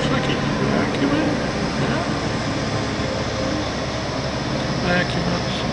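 Street sweeper vacuuming on a road, a loud steady broadband roar with constant engine and suction noise throughout, close by.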